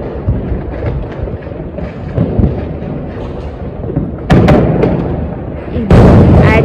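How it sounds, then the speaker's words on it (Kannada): Diwali firecracker bombs burst close by in two sharp, loud blasts late on, the second trailing into crackling, after a stretch of ongoing talk and background noise. "ಬಾಂಬನ್ನು ಹೊಡಿಯೋದು ನೋಡಿದ್ದೀರ"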